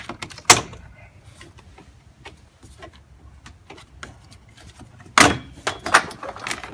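A Jeep grille is pried back by hand and its plastic body clips pop loose, two sharp snapping cracks near the start and later, with small clicks and rattles between them and no speech.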